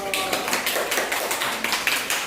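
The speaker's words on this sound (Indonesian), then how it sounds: "Tepuk tangan dulu dong." A class of schoolchildren claps hands together in a classroom, a steady burst of many small claps at close range with a faint chatter of voices underneath.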